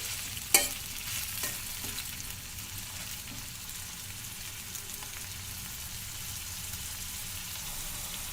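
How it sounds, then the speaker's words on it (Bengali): Onions frying in a pan over village-style home cooking for a chicken curry, a steady soft sizzle with occasional stirring scrapes; one sharp clink near the start, then an even, quiet frying hiss throughout. "পেঁয়াজটাকে একটু ভাজা ভাজা করে নিব যাতে পেঁয়াজ থেকে কাঁচা গন্ধটা চলে যায়।"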